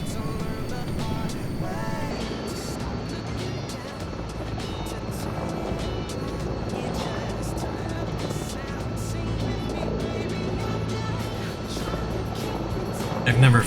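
Sikorsky Skycrane-style aircrane helicopter in Microsoft Flight Simulator 2024, rotor and engine droning steadily throughout with rhythmic blade chop, a faint engine whine and a voice talking over it.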